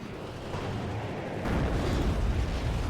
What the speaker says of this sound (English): I just buy some more arty, because it's like, well, I know he's in here